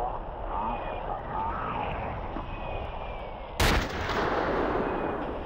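Sniper rifle fired in a video game from the deck of an aircraft carrier: one sharp, loud crack partway through, over a steady background rumble and faint talk.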